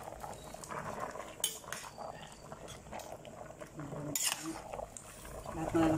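A spoon clinks and scrapes in a pot while stirring kare-kare with squash and sliced eggplant, soft irregular metallic taps and stirring noises, fairly quiet, with occasional voices nearby.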